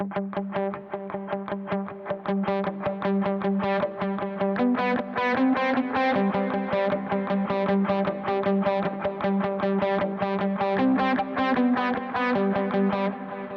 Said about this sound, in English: because I'm using palm muting, it's going to give me more of a tight and focused sound